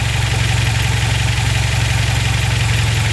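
Car engine with tuned SU carburettors idling steadily at 600 RPM, a loud, even low throb with a regular pulsing beat that carries on unbroken throughout.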